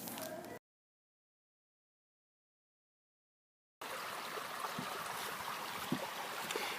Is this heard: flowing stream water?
yes